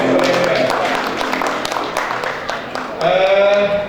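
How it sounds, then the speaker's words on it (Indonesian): Crowd applause at a morning installation ceremony of a regional association board in Malang, a steady broadband clatter of many hands filling the room, rising again near the end, with a voice speaking over it. "Tepuk tangan."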